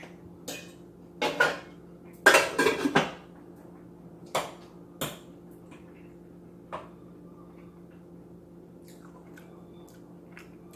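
Frozen Indian food goes back into a pan with a few scattered metallic clinks and clatters, a busier burst early on, then sparse taps fading into quiet room tone.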